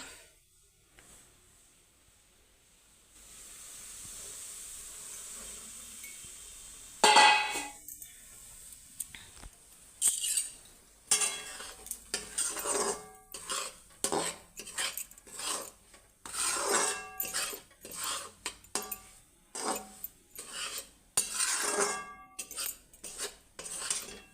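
A spoon scrapes and stirs food roasting in ghee in a metal kadhai, a quiet hiss at first, then repeated rhythmic rasping strokes and clinks against the pan, close and fairly loud, with no talking.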